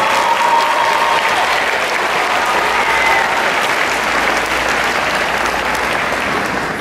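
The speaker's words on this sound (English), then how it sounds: "Let's give Mr. Rawls a round of applause" Sustained applause from an audience at an elementary school fifth-grade graduation ceremony, a thick, even wash of many hands clapping that holds steady for several seconds and tapers slightly at the end.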